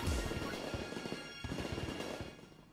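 Fireworks going off in the OK K.O. Let's Play Heroes video game, a dense run of rapid crackling pops and bursts continuing without a break, fairly quiet, with no one talking over them.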